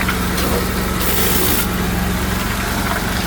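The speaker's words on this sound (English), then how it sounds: "The old vac system." An old vacuum excavation system used for utility digging runs in a loud, steady engine roar with a constant high hiss, unbroken throughout.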